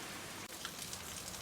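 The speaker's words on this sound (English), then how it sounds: "And now it's raining in both the backyard and the front yard." Steady rain falls across a backyard and front yard as winds from the northeast ease, a dense, continuous hiss of drops on the ground with no pauses or voices.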